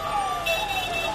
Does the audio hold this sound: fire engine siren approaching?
yes